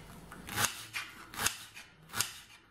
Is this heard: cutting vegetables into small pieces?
yes